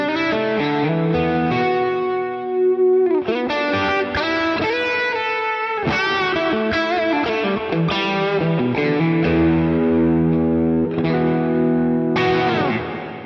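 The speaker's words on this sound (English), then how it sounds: "So if I turn the effect level all the way up" Electric guitar played through an effects pedal with the effect level turned fully up, producing a thick, distorted, chorus-laden and reverberant tone; strummed chords and picked runs ring loudly and continuously without any talking.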